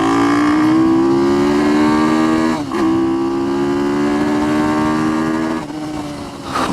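A small Ohvale GP-0 190 minimoto engine wails at high revs through a top speed run, a loud steady buzzing drone with two brief dips as the rider shifts or lifts, then climbing again.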